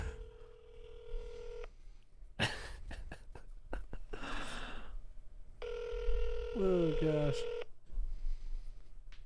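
Telephone keypad tones beep in two bursts of steady dialing, with quick clicks and rustling between them and a brief spoken exclamation, close and moderately loud.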